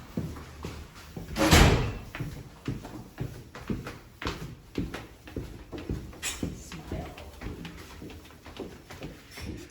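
A locked theatre stage door buzzing and being opened, with a loud clunk of the latch early on, then a string of softer knocks and rattles in the hallway.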